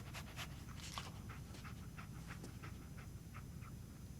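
Dogmeat, the canine companion in Fallout 4, pants rhythmically and steadily at close range, with quick breathy bursts over a continuous low rumbling game ambience and no talking.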